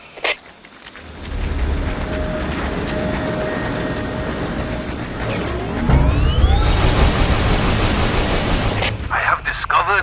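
Train rolling along tracks in a Resistance 3 video game cutscene, a steady rumbling rail noise with clattering and a brief metallic squeal, growing louder midway before fading out.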